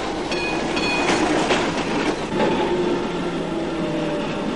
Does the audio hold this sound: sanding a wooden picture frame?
no